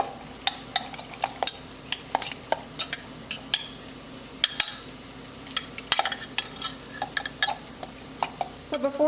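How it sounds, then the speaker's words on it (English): Chihuahua cheese mixed into a raw egg mixture for chaffles, heard as a rapid series of sharp clinks and scrapes of a utensil against a bowl, steady and close, without talk. "I'm going to put in some Chihuahua cheese. And then just mix that all together"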